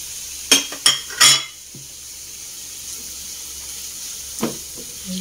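Bitter gourd dropped into a pan with softened tomato, garlic and onion gives a few short bursts of sizzling early on, then a quiet simmer and one more brief crackle near the end.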